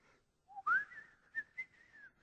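A person whistling a short, wavering tune, a few clear notes close by, with soft breathy gaps and quiet surroundings.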